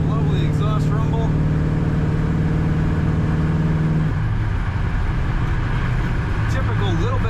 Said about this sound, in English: Lovely exhaust rumble.